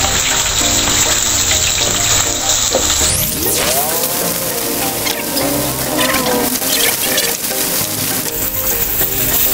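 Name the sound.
potatoes frying and being stirred in a pan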